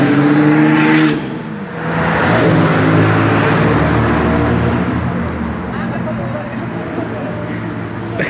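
A vintage car engine roars past during the Mille Miglia classic road race, a loud sustained rumble swelling and holding as it passes close by, with spectators talking over it.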